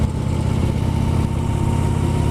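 Motorcycle engine running steadily while riding on a country road, a loud, continuous low drone with a constant pitch throughout, close to the microphone and with no talk.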